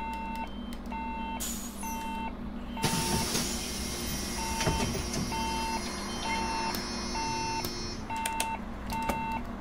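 A city bus in the OMSI 2 driving simulator reverses toward a stop, its reversing beeper sounding in steady regular pulses over a constant engine hum, with a louder rumbling stretch partway through.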